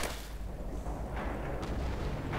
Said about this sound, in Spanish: Aquí están cayendo bombas, cualquiera sale.